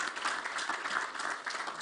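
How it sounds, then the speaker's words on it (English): A summit audience applauds in a blockchain and Web3 session hall, a dense, even wash of many hands clapping together, steady and moderately loud for the short stretch. "Please clap, clap, clap,"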